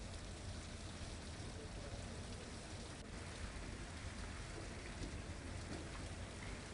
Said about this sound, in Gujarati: ગ્રામીણ વિસ્તારોમાં વરસાદે રમઝટ બોલાવી છે